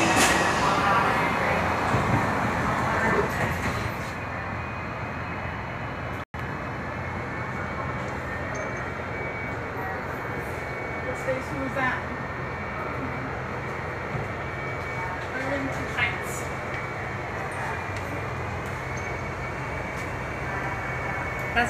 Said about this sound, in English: Green line train, green line train.